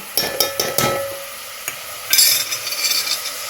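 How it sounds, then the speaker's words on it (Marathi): Ingredients for a dried-shrimp curry are roasted in a pan, with quick scraping and stirring strokes of a utensil at first, then a soft sizzle and scattered clinks close by. "बरे भाजून घेऊया"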